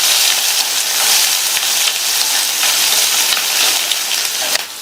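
Chopped onion with green and whole dried chillies sautéing in a pan, giving a loud, close, continuous sizzle with soft stirring scrapes and a small knock near the end.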